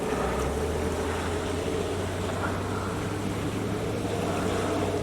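A sailboat motoring under engine power on tidal water makes a steady low engine drone beneath broadband wind and water hiss that stays constant and close throughout.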